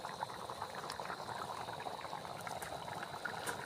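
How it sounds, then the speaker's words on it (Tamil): Soft, steady bubbling of a pot of pea kurma at a rolling boil, faint and continuous with small pops scattered throughout. "நல்லா கொதிக்குது"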